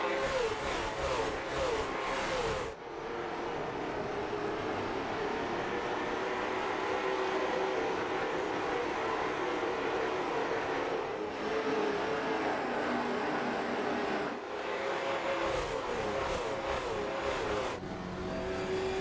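Race cars from a throwback night of late model stock cars lap an oval track at Hickory, a steady loud roar of engines with pack pass-bys swelling and fading, no talk over it.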